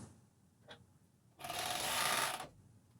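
A Juki coverstitch sewing machine runs in one short, quiet burst of about a second, stitching through layers of underwear fabric in a quiet room.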